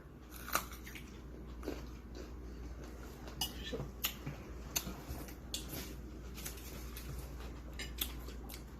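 Fresh date fruit is bitten and chewed close to the microphone, giving sharp crisp crunches at irregular intervals over a quiet background, with no talking.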